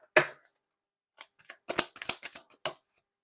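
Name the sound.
shuffling tarot cards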